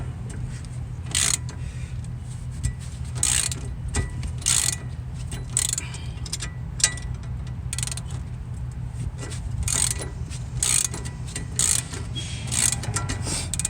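A wheel nut is hand-tightened onto a new wheel stud of a Pontiac G6, making a series of close metallic clicks and scrapes at an irregular rhythm over a low steady hum.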